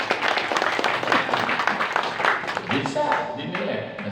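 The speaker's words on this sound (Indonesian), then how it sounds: "Hebat nih Ambit, perlu tepuk tangannya." An audience at a religious lecture by a cleric claps for Ambit's students, moderate and fairly close, while a voice talks over the applause.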